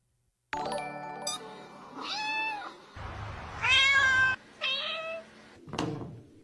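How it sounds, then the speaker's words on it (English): A cat meows several times in a row, loud and close, each cry short with a gap before the next, with a brief chirpy call at the end and no talking. "Meow meow"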